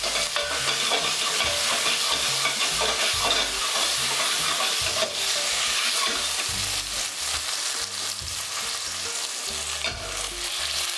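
Potato pieces fry in hot oil with half a teaspoon of turmeric for an Indian vegetarian dish. A continuous loud sizzle runs under repeated scraping stirs of the pan, with no talking.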